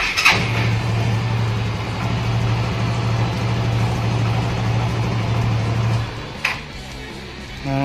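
A Yamaha Xeon GT 125 motorcycle engine fires up and runs at a steady idle for about six seconds, up close, then cuts out with a sharp click.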